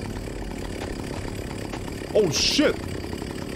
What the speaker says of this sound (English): There's a fucking guy with a chainsaw!